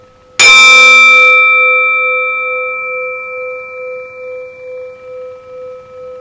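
A single bell or gong struck once, loud sharp attack with bright metallic overtones, then a long sustained ringing tone that slowly fades with a gentle pulsing beat, alone in a quiet room.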